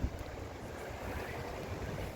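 Small tour boats on an Amsterdam canal, a steady low motor drone with wind and water wash, even and moderately quiet, no talking.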